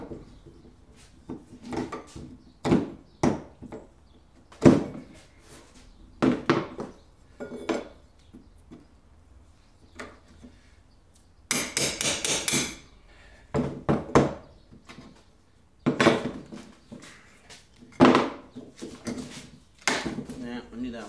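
Wooden pallet being broken apart with a flat bar and hammer, loud sharp knocks and cracks of wood in irregular bursts, with a brief prying screech, close by and interspersed with speech.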